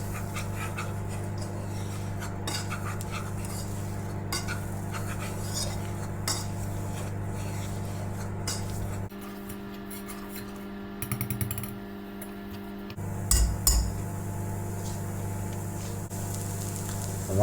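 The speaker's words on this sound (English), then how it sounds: "Give that a stir." Whisk stirring plain flour into a mixture in a pot while cooking a creamy tuna mornay: soft, steady scraping and tapping of metal against the pan over a low kitchen hum.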